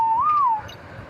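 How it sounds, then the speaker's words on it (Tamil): A person whistles one short, clear note that bends slightly upward and then settles back down, loud and close, lasting about half a second before fading into quiet background with no talk. "சூப்பராக விசில் அடிக்காங்க கைஸ்."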